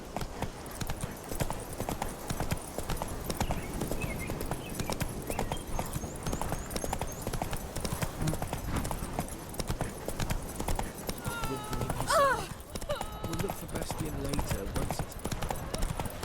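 Rapid, steady hoofbeats of a horse galloping in The Witcher 3, continuing close and loud throughout, with a voice talking over the clip-clop.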